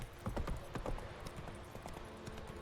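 Horse hooves clip-clop in a video game, a quick irregular run of sharp hoofbeats that is loud and close at first, then thins into lighter, fainter steps over a low background.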